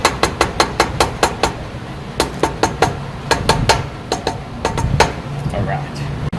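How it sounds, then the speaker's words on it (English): Sharp metallic taps in quick bursts, a hammer lightly seating an SC Project exhaust on a 2018 BMW S1000RR motorcycle, with pauses between groups over a low background hum. "You want to just tap real lightly so that you don't dent anything"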